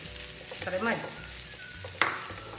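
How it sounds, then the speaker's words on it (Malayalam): Roasted bread crumb mixture being stirred in a pan for an egg evening snack, with soft scraping and light sizzling, a sharp spoon knock near the end, and a brief spoken phrase. "ഇതൊന്ന് മിക്സ് ചെയ്ത് കൊടുക്കുക."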